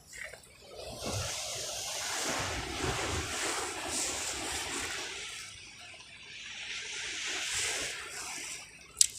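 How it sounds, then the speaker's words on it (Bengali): Ocean waves crash and wash ashore in a steady roar with gusty wind noise, building and fading twice before a brief knock at the end. "বিশাল বড় বড় ঢেউ, আজকে সমুদ্রে আবেগ আইছে।"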